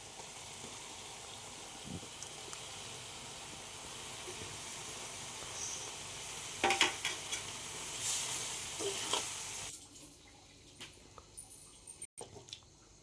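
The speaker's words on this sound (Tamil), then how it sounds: "உருளைக்கிழங்கு போட்டு நல்லா கிளறி விடணும்" A boiled potato and onion masala filling for masala dosa sizzles and hisses softly in a pan, with a few louder scraping stir strokes near the middle before the frying sound drops away.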